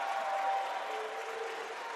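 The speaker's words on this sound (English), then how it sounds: "Fine round of applause for those two Spartans." A crowd at an NCAA Tournament women's basketball game applauds two Tampa Spartans players leaving the court, with steady, moderately distant clapping and crowd murmur filling the arena.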